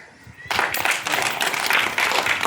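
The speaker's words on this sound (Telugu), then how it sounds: "Very good. క్లాప్స్." Children at a Republic Day celebration in a tribal colony clap together after a quiet pause, their dense, rapid clapping starting abruptly and continuing loud and close to the end.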